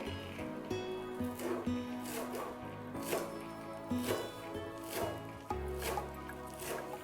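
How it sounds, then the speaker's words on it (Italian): A knife chops parsley steadily on a board in quick repeated strokes, close up, while a soft music bed plays underneath. "A questo punto passiamo a tritare il prezzemolo."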